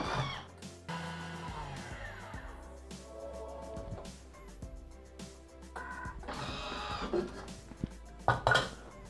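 A Thermomix food processor grinding parmesan cheese at speed 10 for ten seconds, a steady whirring motor with clattering, rattling pieces inside the bowl, close and fairly loud throughout.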